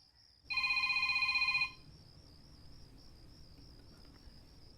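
A telephone rings once in a single electronic burst of about a second, clear and close, then stops, leaving a steady high insect-like whine and room hum.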